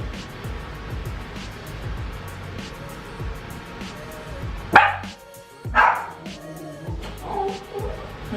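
Dogs bark at home in a few sharp, fairly loud bursts near the middle and end, over a quiet background with a faint hum.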